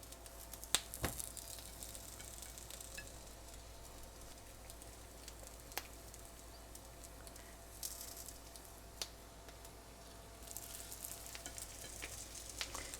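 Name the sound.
Maggi veg patties frying in hot oil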